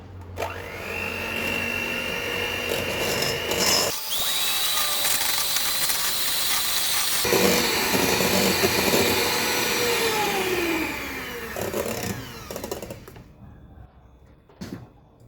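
An electric mixer whips egg whites while sugar goes in, giving a continuous loud motor whine that shifts in pitch as the beaters move, with brief clatters and a fade at the end.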